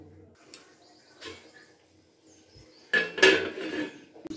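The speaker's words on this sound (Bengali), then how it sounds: "এবার এটা কিছুক্ষণের জন্য এটাকে ঢাকা দিয়ে দেবো" A pan cooking sheem paturi, bean filling wrapped in banana leaf, is covered with a lid, with scattered light clinks and taps and then a louder metallic clatter as the lid settles on.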